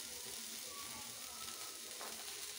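Fried bitter gourd keeps sizzling steadily in a pan as ground spices go in, a continuous close crackle and hiss with faint stirring scrapes.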